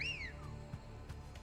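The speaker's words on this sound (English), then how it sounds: "Why the wolf whistle, bud?" A short rising-then-falling wolf whistle from a character in the Final Fantasy XVI video game, heard once at the start, clear and moderately loud, followed by faint game ambience and soft thuds.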